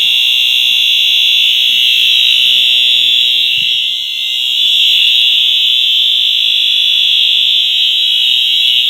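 An NBG-10 electronic fire alarm horn blares continuously, a loud, piercing, steady tone that dips briefly midway and then resumes at full strength.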